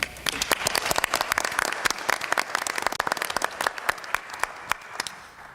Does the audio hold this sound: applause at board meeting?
yes